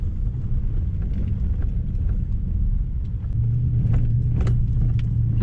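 A black 2003 Toyota Hilux pickup with a swapped 1UZ non-VVTi V8 and manual gearbox drives in low range on a flat track, giving a loud, steady engine rumble throughout and a faint rise in pitch near the end.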